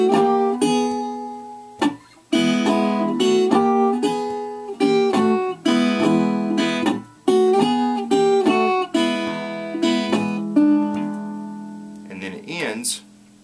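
Acoustic blues guitar intro in E, with a walk-up and back-down bass figure between strummed chords, played in short bursts separated by brief pauses, close and clear with no talking.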